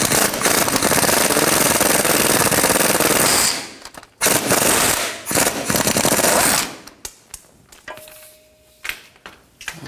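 Rapid rattling bursts from a socket tool, likely an impact wrench, removing a 15 mm bolt from a front catalytic converter on a 2007-2016 Chevy Traverse, loud and close, several hammering runs separated by short gaps.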